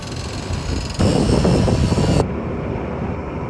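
A motorcycle engine runs nearby with a loud, steady roar that grows heavier for about a second before dropping back to a lower idle hum.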